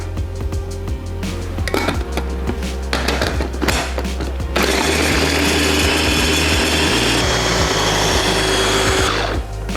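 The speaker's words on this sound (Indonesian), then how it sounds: "Kita pindahkan ke dalam chopper" A small electric food chopper blends chili and garlic with coconut oil, a loud whirring motor grind with rattling contents, running in bursts before settling into one long, harsher continuous spin that cuts off at the end.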